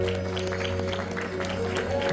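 An audience at an Eid qawwali gala night claps steadily, a busy patter of hands under a faint sustained hum.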